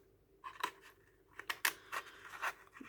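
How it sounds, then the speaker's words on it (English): Scissors snip through paper while a junk journal is being made, giving several quiet, crisp cuts close by with short gaps between them. "or maybe I'll just use some scissors."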